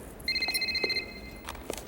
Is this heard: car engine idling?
no